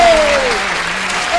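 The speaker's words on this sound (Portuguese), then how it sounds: "Eu quero ouvir as palmas." A live show audience claps as a country singer is introduced on stage. The applause is loud and dense over a short burst, with a brief gliding vocal cry rising above it.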